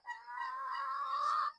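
Hens brooding together in a single nest, apparently built in an old tire in a backyard chicken house, give one continuous low, wavering clucking call lasting about a second and a half, close and clear with no talking.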